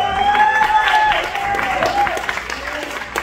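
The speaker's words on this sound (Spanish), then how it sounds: "Fuerte un aplauso para Yurem" Applause rises from a studio audience at a comedic Christmas pastorela as Yurem is introduced, clapping spread under a host's voice that keeps talking through it.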